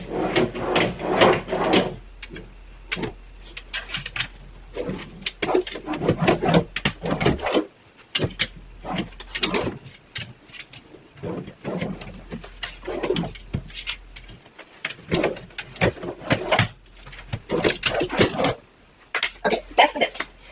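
Wooden drawers of a newly built desk slide open and shut repeatedly in a room, with sharp knocks and rumbling slides spread over the span, while people talk in between.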